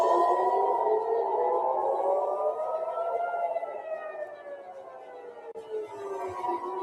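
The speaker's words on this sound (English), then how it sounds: "CNN's crew in Tel Aviv captured the moment that air raid sirens rang out over the city." Air raid sirens rising and falling over Tel Aviv during an Iranian ballistic missile attack, several long wailing tones overlapping and echoing across the city, steady and fairly loud with no voices.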